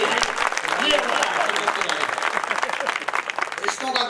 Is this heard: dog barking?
no